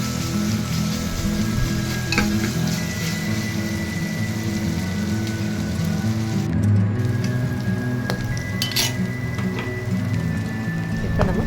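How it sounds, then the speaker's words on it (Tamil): Ginger garlic paste sautéing in hot oil, a loud, close, unbroken crackling sizzle with a low steady hum underneath and a few brief clicks from the pan. "ஒரு தேக்கரண்டி தே இஞ்சி பூண்டு விழுது சேர்த்துக்கோங்க அதையும் எண்ணெயில் நல்லா வதக்கி விட்டுருங்க"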